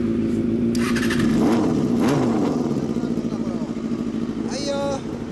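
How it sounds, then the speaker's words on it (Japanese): A motorcycle engine with an aftermarket KSY exhaust idles loudly nearby and revs up a couple of times with a throaty rumble; a brief voice cuts in near the end. "エンジン音聞かして。"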